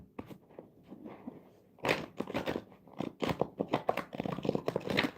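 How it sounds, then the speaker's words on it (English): Close, crisp shuffling of an oracle card deck by hand, with soft riffling and papery slaps in quick irregular bursts, quiet at first and then louder and denser. "Let's give it a quick shuffle."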